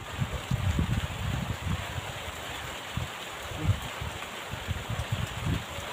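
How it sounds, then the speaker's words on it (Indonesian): Heavy afternoon rain falls steadily over a village, a dense, even wash of hiss with low rumbling patter underneath, continuous and fairly close with no voices. "Tuh sahabat, hujannya lumayan deras nih"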